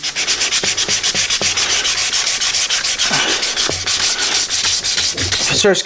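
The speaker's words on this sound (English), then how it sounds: "you can always just take your sandpaper right off of there and do it by hand" Guitar binding on a Les Paul kit is sanded by hand with 400 grit sandpaper. The loud, close rubbing runs continuously in quick, even back-and-forth strokes.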